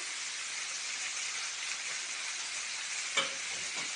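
Chopped onions sizzling in a hot pan with browned chicken pieces on a stovetop, a steady, even frying hiss throughout with a brief stirring clatter near the end.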